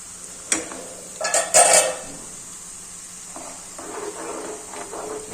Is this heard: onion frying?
yes